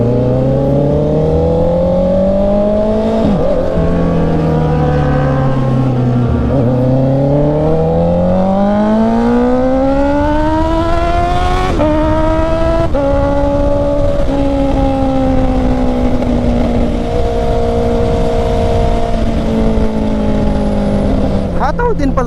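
A 2024 Honda CB650R with E-Clutch is ridden hard, its engine loud and close as it accelerates through the gears with repeated rising revs and shift dips, while a rider talks over the ride.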